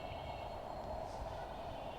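A night train rolls onto the Padma bridge with a steady rumbling rail roar and faint wheel squeal, heard from inside a carriage.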